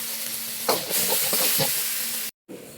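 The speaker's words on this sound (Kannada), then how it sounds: "ನೋಡಿ, ಈ ಥರ ಚೆನ್ನಾಗಿ ಫ್ರೈ ಮಾಡ್ಕೊಳ್ಳಿ." Onion, tomato, garlic, green chilies and cumin frying in hot oil give a steady, close sizzle and hiss with a few brief stirring bursts, then a short silent break.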